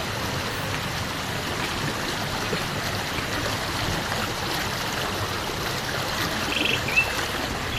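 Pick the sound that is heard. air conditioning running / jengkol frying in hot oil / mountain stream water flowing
mountain stream water flowing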